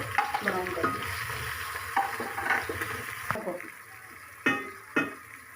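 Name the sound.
ginger browning in hot frying oil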